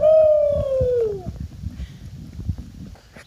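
A person imitating an owl's hoot outdoors on a long-distance trail hike, giving one loud, sustained, falling hoot that fades out after about a second, followed by faint rustling and background noise.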